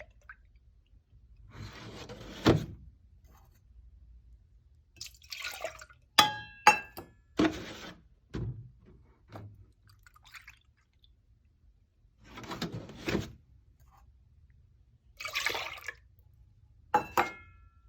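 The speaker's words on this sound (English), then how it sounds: "Next, you will measure 2 cups of milk and put them in the saucepan." Milk being measured and poured into a saucepan for a keto egg custard, heard as several short liquid pours and clinks of cup against pan, scattered across a quiet kitchen with pauses between them.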